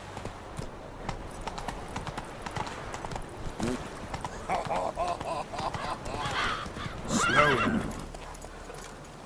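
Horse hooves clip-clop at a steady walking pace in The Witcher 3 video game, with a loud neigh rising near the end and a short spoken line partway through.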